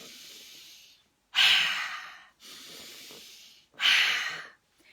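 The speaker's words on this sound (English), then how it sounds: "so you can use different levels of ferocity within the breathing" Strong, forceful breaths in a breathing exercise, alternating quieter inhales with two loud, sharp rushing exhales at a steady rhythm, close and unaccompanied by talk.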